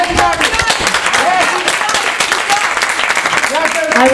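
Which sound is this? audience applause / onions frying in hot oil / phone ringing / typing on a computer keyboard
audience applause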